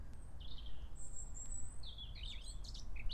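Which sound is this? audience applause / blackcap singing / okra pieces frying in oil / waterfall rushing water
blackcap singing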